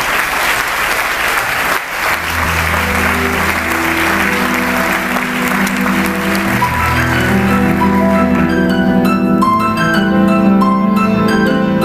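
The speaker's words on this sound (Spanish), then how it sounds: "vamos a pedir al público que aplaude." Concert audience claps along during a piano song, loud dense applause over sustained piano and music that grows clearer as the clapping thins.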